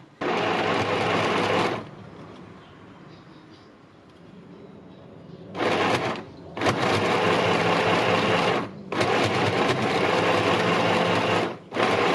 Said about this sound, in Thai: หลังจากนั้นเราเย็บระบายด้านบนกันนะคะ